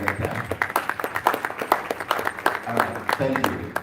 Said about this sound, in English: If you are clapping, I think you can do better.